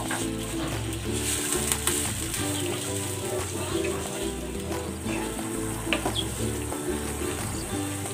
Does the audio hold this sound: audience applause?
no